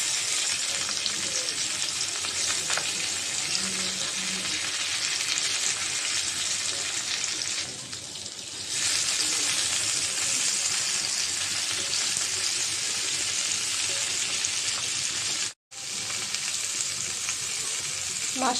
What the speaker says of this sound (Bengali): মাছটা ভাজা হয়েছে, একটু এখন উল্টিয়ে দিব।